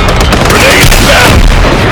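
A heavy grenade blast in a Call of Duty or Battlefield firefight, a dense loud roar of explosion and gunfire filling the whole moment, with shouted voices mixed in.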